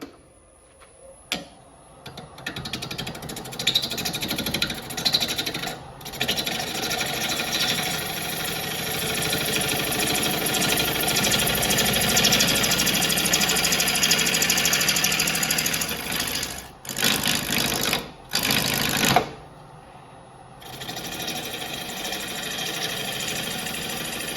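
Wood lathe spinning a cherry bowl blank with a steady whirring drone, the gouge catching corners on the uneven rim, broken by a couple of brief pauses near the end before the hum resumes.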